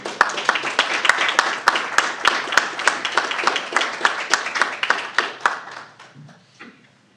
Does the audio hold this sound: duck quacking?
no